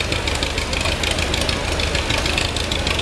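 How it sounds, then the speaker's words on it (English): A Big Roy Versatile 8-wheel-drive tractor with a 650-horsepower engine runs with a loud, continuous, deep rumble and a slightly knocking throb, heard up close with no talk. "This is an 8-wheel drive tractor, developed 650 horsepower."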